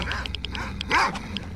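Dogs in a STALKER: Shadow of Chernobyl video game bark and yelp in a quick irregular series, moderately close, with some whining tones and faint speech underneath.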